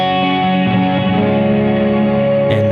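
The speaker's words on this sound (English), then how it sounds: "I can add the EHX Holy Grail reverb" Electric guitar played through an EHX Holy Grail reverb pedal on its hall setting, a sustained, lush chord wash ringing alone with a long reverberant tail and a brief change near the end.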